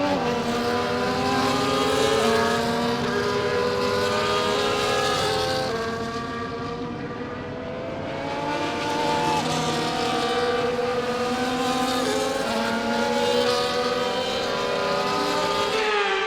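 F1 cars on the formation lap in F1 24 at a wet Baku circuit roar with a steady, layered engine drone. The revs rise and fall in waves, and the cars sound close and loud throughout.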